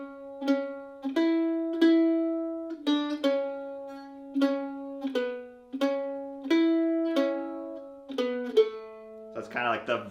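A mandolin plays the opening verse melody of the carol Angels We Have Heard On High in a beginner bluegrass style, clear picked notes ringing one after another in a steady rhythm, close and alone, ending with a brief strum.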